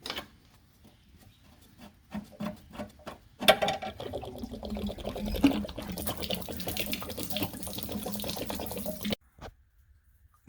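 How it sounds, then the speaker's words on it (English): Water draining from the plug of an RV water heater being replaced: a few scattered drips and clicks, then a steady splashing gush for several seconds that stops abruptly. "we need to drain the water heater using this plug"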